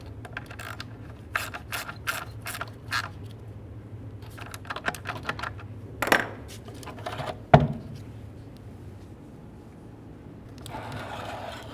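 Ratchet snugging the bolts on a 2012-2018 Nissan Altima 2.5L intake manifold, quick bursts of clicking pawl strokes in short runs with pauses between them, close by, plus a couple of sharper metallic knocks.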